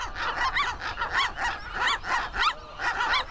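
Western gulls at a large breeding colony on the Farallon Islands give loud, harsh, rhythmic calls close by. Repeated squawks overlap in quick succession.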